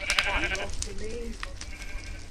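Sheep bleating in the Minecraft video game, a few short, nasal bleats over a noisy background with people talking and laughing along.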